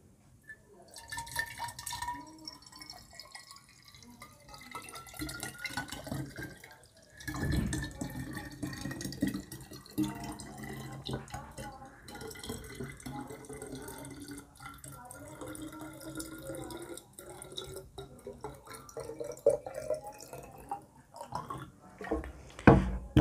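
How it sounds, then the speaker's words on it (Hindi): Water poured into a plastic bottle to fill it for a homemade lamp, a continuous splashing gurgle whose pitch rises as the bottle fills, with a few bumps and handling knocks along the way. "सबसे पहले हम इसके अंदर पानी भरते हैं, जितना हो सके पानी फुल करते हैं इसको।"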